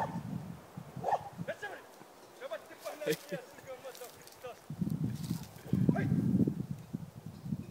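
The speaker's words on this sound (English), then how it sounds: "Wild dog, they are wild, aren't they?" Wild dogs barking outdoors on a road trip in Greece, a few scattered barks at a moderate distance mixed with clip-clop sounds and background noise, with people talking between them.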